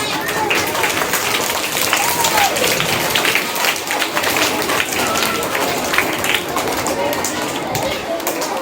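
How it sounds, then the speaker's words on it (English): A crowd claps in a sustained, dense round of applause at a school Children's Day celebration, steady throughout, with voices speaking over it. "with a big round of applause"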